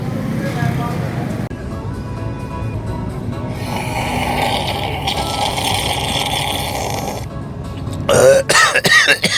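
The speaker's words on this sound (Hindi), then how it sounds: "खांसी हो गई सर" A man coughs and clears his throat harshly several times, close and loud, with talk and background noise around him and a burst of rough throat sounds near the end.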